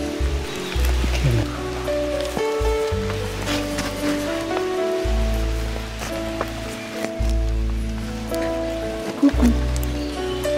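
Steady rain patters on leaves in a forest in early June, a dense continuous hiss with scattered drips, heard alongside tonal background sounds and brief low thumps.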